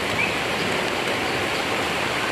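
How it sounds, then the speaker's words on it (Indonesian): Light drizzle falls outdoors during mango and avocado tree pruning, making a steady, even hiss that fills the whole stretch with no talking. "Ini agak gerimis, sobat."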